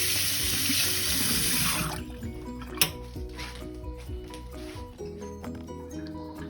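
A kitchen sink tap runs loudly for about two seconds while something is rinsed under it, then shuts off, leaving quieter clinks and small handling sounds nearby.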